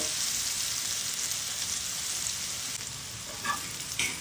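Sweet pumpkin bhaji fries in a pan with a steady, bright sizzle throughout, joined by a couple of soft scraping stirs near the end, close and without talk.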